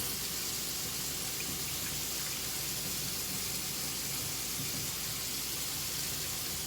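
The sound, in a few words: water running from a sink tap while rinsing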